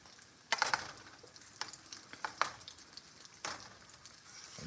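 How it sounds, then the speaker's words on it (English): Collard greens and chicken thighs sauté in a pan, a soft steady sizzle broken by several sharp scraping stirs of a utensil, close and fairly quiet with no talking. "We want it to saute, kind of like that."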